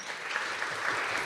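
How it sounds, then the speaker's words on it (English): Conference audience applause in Warsaw, a soft, distant, even patter of many hands clapping, steady throughout the short stretch with no talk on top. "You heard the applause, right?"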